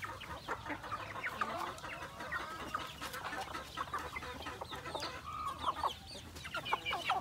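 Native Philippine chickens cluck and chatter in a busy farmyard flock, with overlapping clucks and calls rising and falling at moderate distance, continuous throughout with no talking.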